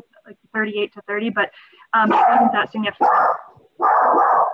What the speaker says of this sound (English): Sorry, that's my dog.